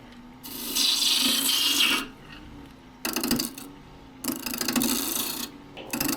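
Wet wood spun on a wood lathe while material is hogged off: loud bursts of scraping and shaving from the tool against the spinning piece, separated by quieter gaps with the motor humming.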